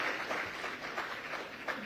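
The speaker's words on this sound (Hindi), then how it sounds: "जोरदार तालियां मैथिली के पिताजी के लिए।" Studio audience applause during a televised interview, dense continuous clapping heard fairly close for a short stretch with no talk over it.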